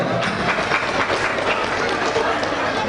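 Audience applause at a school closing ceremony, a steady wash of clapping from a crowd filling the whole moment, with some voices mixed in.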